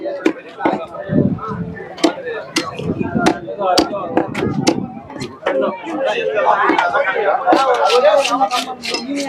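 Fish being cut with heavy blades at the busy Chembarambakkam lakeside fish market, sharp, irregular chopping thuds close by, mixed with crowd chatter and talking voices throughout.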